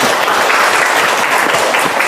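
A crowd clapping steadily, a dense, sustained round of applause from a roomful of people, loud and close, with no talking over it.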